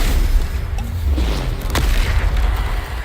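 A Bombarda blasting spell explodes in a video game, a deep sustained boom and rumble with a short burst in the middle, loud and close with no talking.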